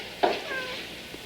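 A cat gives a single short meow, close and fairly clear, over a steady background hiss.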